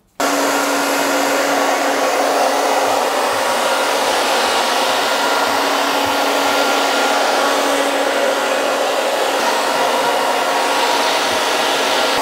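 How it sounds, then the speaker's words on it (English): Hair dryer fitted with a diffuser drying curly hair at a barber's, a loud steady whooshing airflow starting abruptly and running continuously without any talk. "I'm just going to dry it very, very slowly with a diffuser, just so you can kind of see."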